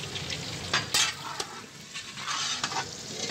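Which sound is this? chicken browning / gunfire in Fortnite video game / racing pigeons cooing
chicken browning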